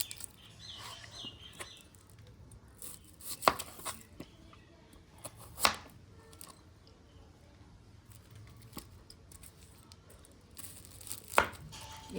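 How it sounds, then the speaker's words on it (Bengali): A cleaver chops onion, green chili and curry leaves on a board in a few sharp, widely spaced knocks, close but fairly quiet, with faint birds chirping in the background. "এই চাপড়টা দিয়ে কাটলে পেঁয়াজগুলো ভালো কুচি কুচি করা যাবে"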